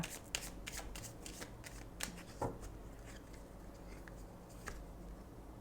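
Ganesha oracle cards are shuffled and handled in a quiet room, with soft, rapid flicks and a few sharper snaps at low volume.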